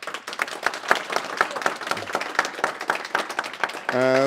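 Audience applause after a final presentation for a Java fullstack course, a quick patter of many hands clapping, fairly close, ending as a voice begins speaking.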